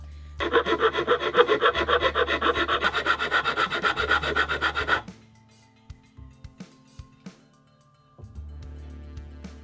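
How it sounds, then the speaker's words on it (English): Hand file rasping wood to trim material from the back of a piece for a sink build, a steady run of quick rhythmic strokes for about five seconds, then scattered lighter scrapes and short stroking at the end, close up with no talking. "I ended up filing some material in the back"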